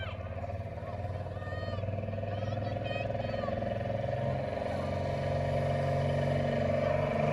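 Pulling truck engine revving at a truck and tractor pull at the Carp Fair, a steady loud droning rumble throughout with a commentator talking over it on a public address system.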